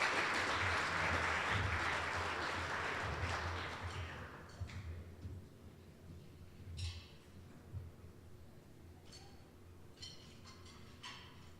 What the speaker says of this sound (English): let's give Trevor Meads a hand and congratulating him with the Thomas E. Leonard Scholarship.